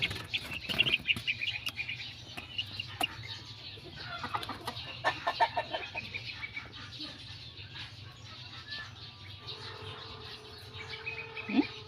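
Young chicks peep in high, thin bursts while feeding on rice treats, with a few clucks among them. The calls are scattered and moderately close over steady low background noise.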